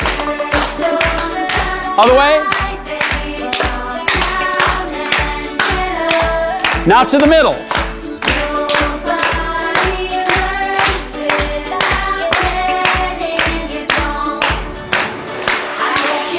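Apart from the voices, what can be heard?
hand clapping during an exercise routine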